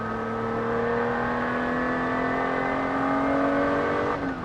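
A GTO Engineering recreation of the Ferrari 250 SWB drones steadily from the cabin, its engine holding a smooth sustained note that climbs gently in pitch before easing off near the end, with no talk.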